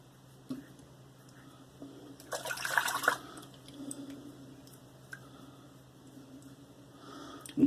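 A Gillette Super Click safety razor is rinsed under running water, giving a brief splashing gush in the middle between faint drips and quiet trickles.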